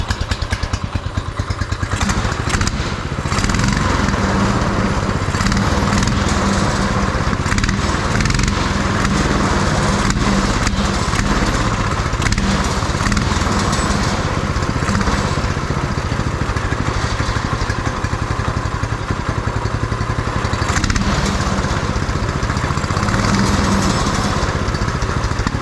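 Small engine on a beater go-kart idling steadily after a carburetor swap, a loud, continuous close-up putter with a slightly low, uneven idle and rattly clatter throughout.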